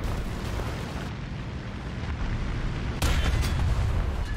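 Bombs bursting in War Thunder tank combat, a dense rolling rumble of heavy explosions with a sharper, louder blast near the end, no talking.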